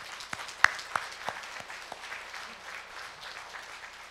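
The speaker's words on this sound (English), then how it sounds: "Let us give them all a round of applause." Audience applause for honored dignitaries at a keynote address during an international forum on Korean unification, with scattered individual claps standing out at the start before a softer, steady patter continues.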